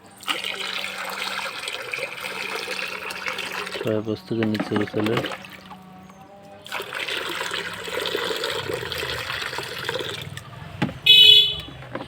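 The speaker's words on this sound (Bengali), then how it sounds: "পানি দেওয়া অলরেডি শুরু করে দিয়েছে।" Water poured into a pigeon bathing pool rushes and splashes in two long stretches separated by a quieter gap, with someone talking over part of it.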